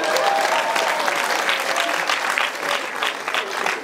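An audience claps steadily and loudly throughout, a continuous dense applause from a crowd at an event, with little else heard.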